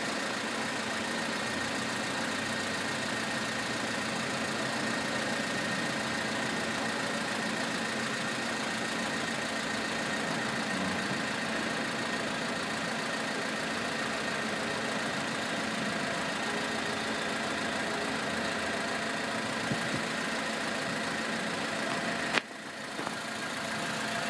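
A 1998 Honda Civic with a 1.6-litre engine idles steadily and close by, a constant, even mechanical hum with a faint rhythmic knock and a brief bump near the end.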